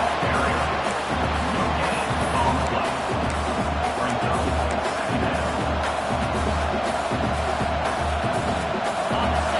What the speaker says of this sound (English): this home crowd is fired up and ready to make a difference today